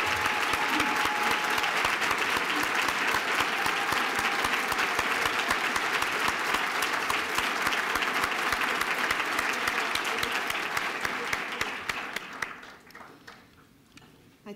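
An audience applauds to welcome Congressman John Lewis, sustained dense clapping from a large crowd that holds steady for about twelve seconds before tapering off to a few scattered claps.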